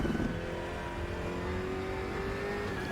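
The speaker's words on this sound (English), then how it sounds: "This car feels so great to drive, honestly." Race car engine in the RaceRoom racing game, a BMW M6 on a fast track, droning steadily at high revs with a rising harmonic whine, loud and continuous with no talk.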